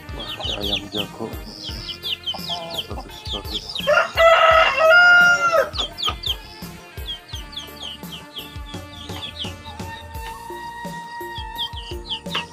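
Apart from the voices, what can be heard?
rooster crowing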